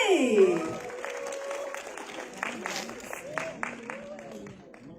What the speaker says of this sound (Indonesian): boleh tepuk tangan untuk Ardina Rasti.